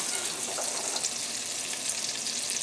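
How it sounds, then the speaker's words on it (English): Diced shallots frying in a pan for chicken Marsala, a steady close hiss and crackle of sizzling oil that holds even throughout, with no voices. "we're going to add these shallots."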